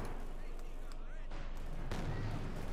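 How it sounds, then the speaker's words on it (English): Distant mortar and artillery booms from the World War II strategy game Company of Heroes 2, thuds and crackling blasts under a constant noisy bed of battle sound. "Mortar hit on the Pack 40 as well."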